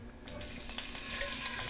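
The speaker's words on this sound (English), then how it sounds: "This is going to make a big hiss splatter. We're going to add the can of tomatoes." Canned crushed tomatoes hit hot garlic oil in a pan with a sudden loud hiss and spatter. The sound bursts in after a brief quiet moment, then keeps up a steady sizzle without speech.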